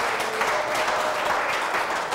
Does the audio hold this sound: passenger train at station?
no